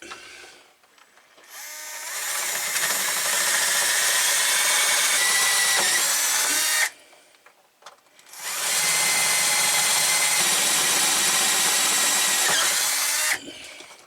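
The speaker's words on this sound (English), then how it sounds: "there's a lot of old rivet left in it. So let's drill." A power drill whines loudly and steadily in two long bursts of several seconds each, separated by a short pause, drilling out old metal rivets close up during an RV window repair.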